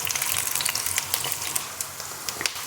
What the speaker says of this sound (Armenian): Հիմա անընդհատ խառնելով տապակելու ենք սմբուկը։